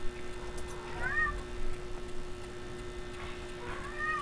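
A cat meows twice, a few seconds apart, each a short rising-falling cry over a faint steady hum in a quiet room.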